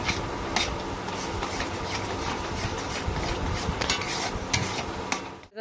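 Semolina batter is stirred steadily in a pan, a continuous close scraping and rubbing with a few sharper scrapes, with no voices over it.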